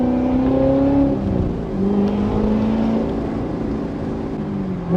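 A Corvette C7 Z06 with its stock intake lets out a loud supercharger whine, a high tone that rises and falls with engine speed over a steady engine roar, heard up close.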